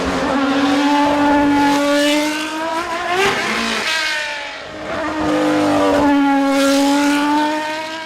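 An Aston Martin Valkyrie's Cosworth V12 hybrid engine screams through high revs beyond 11,000 RPM, a loud, sharp wail climbing and falling in two sweeping pulls with a brief dip between them.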